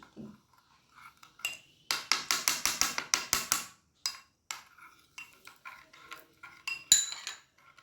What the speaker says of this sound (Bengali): এবারে কাস্টার্ড পাউডার দিয়ে দুধের সঙ্গে মিশিয়ে নিচ্ছি